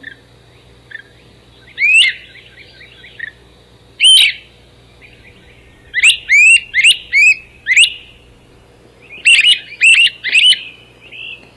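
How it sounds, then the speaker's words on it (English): Loud calls of one of the largest flycatchers, heard in a Tennessee birding setting: repeated clear, rising whistled notes in short clusters, close and prominent over a faint low hum, with pauses between the groups. "This one you don't see as much as you hear, and he has a very loud call."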